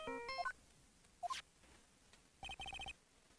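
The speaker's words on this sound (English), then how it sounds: "what is with this stupid sounding ringtone?" A cheesy electronic phone ringtone from the Phoenix Wright video game plays in short bursts of bright beeping tones: a quick rising jingle, a lone chirp, then a fast run of repeated pips.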